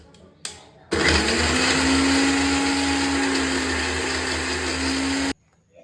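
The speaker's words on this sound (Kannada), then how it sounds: "ಇದಕ್ಕೆ ಸ್ವಲ್ಪ ನೀರು ಹಾಕ್ಕೊಂಡು ಮಿಕ್ಸರ್ಗೆ ಹಾಕೋಬೇಕ್ರಿ." A mixer grinder starts with a sharp whine and runs at a steady high-pitched roar for about four and a half seconds, blending chakli masala paste with a little water and vinegar, then cuts off abruptly.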